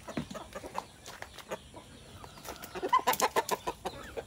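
Native chickens clucking in a farmyard, a run of quick, close clucks building toward the end over quieter scattered calls and background bustle.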